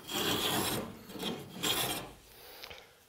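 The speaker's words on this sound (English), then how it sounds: "Well, I'm planing down the top of the guard and the top of the inwale." Hand plane shaving the top edges of a wooden guard and inwale on a V-bottom skiff, planing along a curve; two close, rasping strokes, then a quieter third, with no talking.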